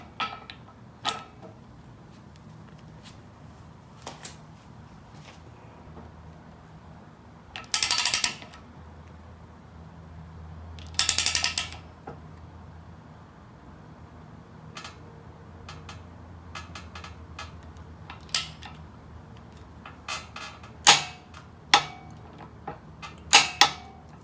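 Metallic clicking of a ratchet with a 19 mm socket tightening the steering stem nut on a Honda 400EX quad, heard up close in short bursts of ratcheting mixed with tool clinks and handling noises.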